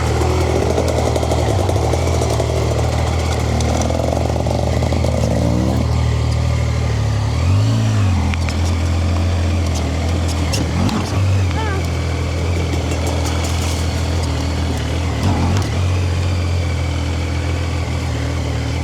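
A Zontes 703F motorcycle engine runs while being ridden through the Carpathians, a loud continuous drone that shifts pitch as the revs rise and fall, with brief voice sounds over it.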